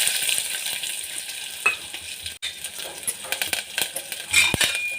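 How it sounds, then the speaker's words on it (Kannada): Onion, dried chillies and mustard seeds fry in hot oil, a steady close sizzle and crackle, with occasional spatula scrapes and clinks against the pan. "ಕರಿಬೇವು ಹಾಕಿ ಫ್ರೈ ಮಾಡಿ."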